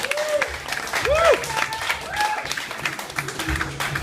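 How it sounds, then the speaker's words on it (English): Audience at a comedy roast claps in a steady patter, with whoops and voices rising over the crowd throughout. "let's clap it up for Allison for putting this together."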